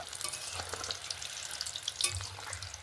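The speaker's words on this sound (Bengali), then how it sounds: "এবারে একটু খুন্তিতে নেড়ে চেড়ে নেব।" Carrot langcha sweets fry in hot oil with a soft, continuous sizzle, while a spatula stirring them adds faint scrapes and clicks close by.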